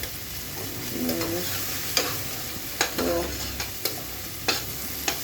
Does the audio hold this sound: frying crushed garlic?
yes